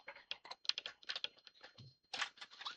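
Computer keyboard keys clicking in quick irregular bursts, close and fairly quiet, with a brief pause before the typing resumes.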